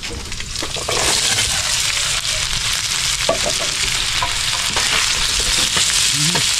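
Sliced carrots fry in a hot pan with a steady, loud sizzle and crackle that runs throughout, with occasional clinks and scrapes of stirring.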